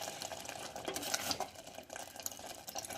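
Melted jaggery syrup for a lemon crush pickle is stirred in a pan over a medium gas flame, giving a faint, steady scraping and bubbling sound up close.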